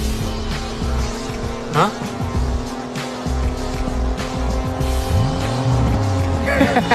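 Race cars speed around a racing track, their engines whining at a steady, loud pitch, with tire squeals and a car sweeping past near the end; a voice speaks briefly.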